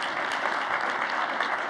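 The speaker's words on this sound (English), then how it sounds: "Let's give a round of applause for our sponsors tonight" Forum attendees at UNLV give a round of applause for the event's sponsors, a steady, dense wash of many hands clapping close and even throughout.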